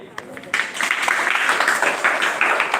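An audience claps after a wall magazine presentation at a school: a short burst of steady applause that starts abruptly and carries on to the end, with a few voices mixed in.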